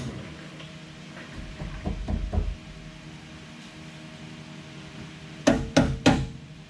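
A dead blow hammer strikes the underside of a Jeep: a few dull thuds early on, then three sharper, louder blows near the end over faint background noise.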